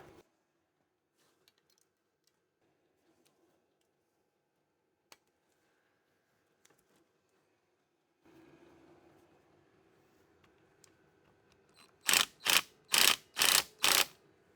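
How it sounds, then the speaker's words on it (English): An impact wrench hammering at a truck suspension bolt fires four loud, evenly spaced bursts up close, following a stretch of quiet garage shuffling. "Let me grab an impact, we'll hit that and see what happens."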